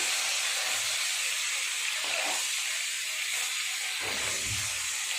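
Pieces of katla fish fry in hot oil for doi katla, giving a steady, loud hissing sizzle with a few low pan knocks as the pieces are turned.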